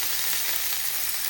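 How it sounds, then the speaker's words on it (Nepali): Fish sizzles as it roasts in a pan, a constant bright hiss of frying that fills the short moment with no pauses or voices. "छेउमा माछालाई रोस्ट गर्दै गर्छ"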